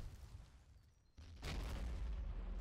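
Artillery fires in the World War I strategy game Battle of Empires 1914-1918: a deep, rumbling boom breaks out midway and swells into a sustained roar over low background noise.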